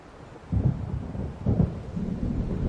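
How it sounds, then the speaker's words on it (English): Thunder from a storm in the video game Alan Wake Remastered, two low rumbling rolls over a steady wash of rain and wind, fairly loud. "It seems there's a storm coming."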